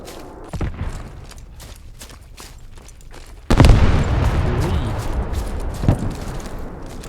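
Booming explosions and gunfire in the game Squad crackle through a busy mix, with a heavy blast midway followed by continuous rumbling and scattered shots.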